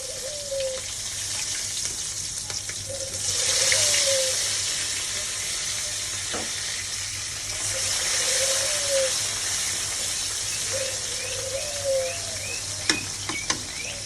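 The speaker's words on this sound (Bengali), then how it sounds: "তেলটা গরম ছিল, পেঁয়াজ ভাজা ভাজা হয়ে গেছে" Onions fry in hot oil at the start of a pangas fish curry, a broad steady hiss that swells and eases, with occasional squeaky stirring strokes and a few clattering knocks near the end.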